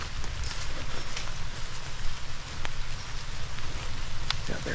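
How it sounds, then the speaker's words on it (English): Heavy rain pours steadily outdoors in woodland during a bow hunt for whitetail deer, a dense continuous hiss with occasional sharper drop ticks, close and loud with no speech over it. "since it's raining pretty good"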